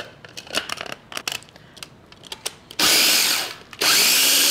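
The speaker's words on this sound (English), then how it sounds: "You can again just coarsely cut these up and put these into the processor." A food processor grinds coarsely cut mint leaves with salt and pepper, starting after a few light clinks and taps, then whirring loud and steady in two close bursts with a short pause between them.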